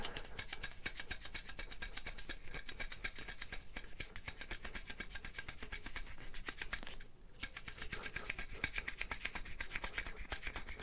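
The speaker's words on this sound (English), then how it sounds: "Oh, I gotta chamfer them." Ends of wooden pins are chamfered by hand in a workshop during a desk build, giving a faint, rapid, steady rasping scrape that runs continuously with one short break.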